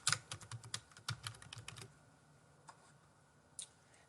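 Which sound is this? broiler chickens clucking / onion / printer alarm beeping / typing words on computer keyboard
typing words on computer keyboard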